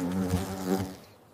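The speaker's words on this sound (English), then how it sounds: "This is a hornet." A hornet buzzes close by in a loud, rising and falling drone for just over a second before fading out, with no voices over it.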